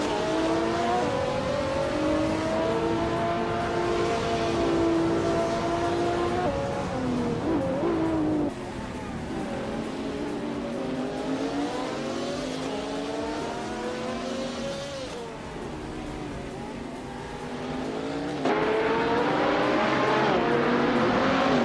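Race cars in a racing video game roar past with revving, shifting engine notes and occasional tire squeal, a continuous loud engine drone throughout.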